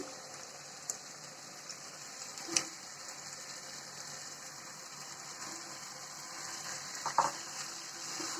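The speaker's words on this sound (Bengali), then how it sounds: "এখন আমি এর ভিতরে মাছের মাথাটা দিয়ে দেব।" Steady hissing sizzle of a fish head frying in hot spiced oil, with a few faint clinks and taps along the way.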